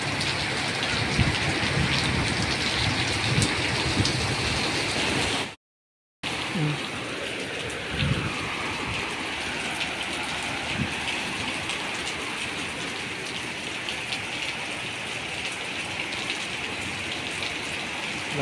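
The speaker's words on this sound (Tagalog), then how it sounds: "Grabe ang ulan, malakas. Baha na, oh." Heavy rain pours steadily in Jeddah during flooding, a dense, continuous hiss of water close by that holds throughout, with one brief dropout near the start.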